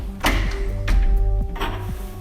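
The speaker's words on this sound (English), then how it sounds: "is close the door" A door being hung and closed by a construction crew, producing a few dull thunks and knocks at irregular intervals, close and fairly loud, with faint rattling between the hits.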